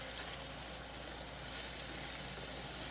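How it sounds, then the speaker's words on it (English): Cut potatoes are stirred through hot oil in a pan, giving a steady, even sizzle and hiss that holds unbroken throughout, soft and close with no voices. "I'm just going to stir and sort of coat it with the oil nicely."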